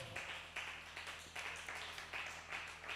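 Applause for a speaker at a youth business seminar, a faint, distant patter of clapping that comes in rhythmic waves over a low steady hum, with no voices.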